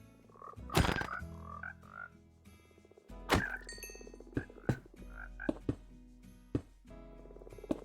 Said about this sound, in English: why is there so many frogs?